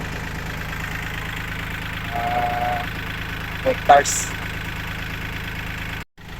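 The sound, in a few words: farm tractor motor engine running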